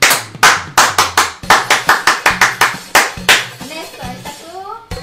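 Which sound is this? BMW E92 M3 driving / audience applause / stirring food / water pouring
audience applause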